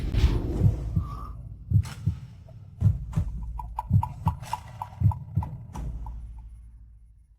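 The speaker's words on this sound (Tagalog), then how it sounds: "Bakit ang bilis ng tibok ng puso mo?" A heartbeat thumps in deep, heavy lub-dub pairs, repeating steadily and close, with soft ringing tones drifting in between the beats before it fades out.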